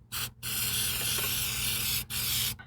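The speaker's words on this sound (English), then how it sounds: "but shake and spray." An aerosol can sprays in a short burst, then a long steady hiss, pauses briefly, and ends with a final quick spray, used while replacing rear shocks on a Ford Flex.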